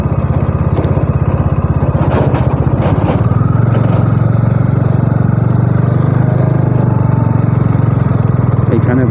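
A motorcycle riding along a road between Bardhaman and Mogra in West Bengal, its engine running steadily and close throughout with a constant low throb and a few faint higher sounds above it.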